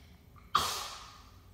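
A sneeze in a home playroom with toy play: one short, soft burst of breathy noise, faint and close, with a quiet hum in the background.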